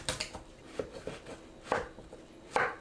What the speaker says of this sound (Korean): 애호박은 양끝을 손질하고 길게 4등분합니다.